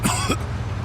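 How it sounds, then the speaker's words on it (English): A man coughs in the Mafia II video game, one harsh, close cough followed by a second short one, with a pained, throaty rasp like clearing his chest. "Every time I cough, it feels like I'm being stabbed in the chest."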